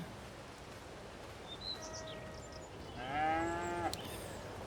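Cows mooing in Farming Simulator 22, two drawn-out moos in quick succession, the second louder and closer, over a quiet farmyard background with faint bird chirps.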